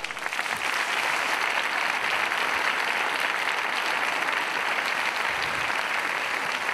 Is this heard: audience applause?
yes